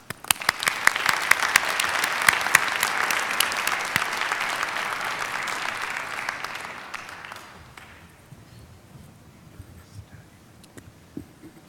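An audience at the Schneider Lecture, a climate change science lecture, applauds to welcome the speaker: full, dense clapping for about seven seconds that thins and fades into a quiet hall with a few scattered claps.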